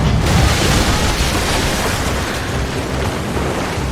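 Ship cannons firing during a naval battle in Assassin's Creed Rogue, a loud close boom followed by a rolling, sustained roar of blasts and debris with no voices.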